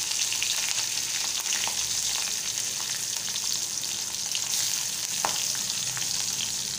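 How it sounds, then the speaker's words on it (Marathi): Garlic cloves, green chillies, curry leaves and onion sauté in hot oil, giving a steady, close broadband sizzle with faint stirring clicks throughout and no talking. "आता चांगलंसं तेलात परतून घेणार आहे मी"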